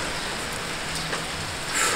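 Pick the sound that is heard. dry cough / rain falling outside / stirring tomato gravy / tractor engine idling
rain falling outside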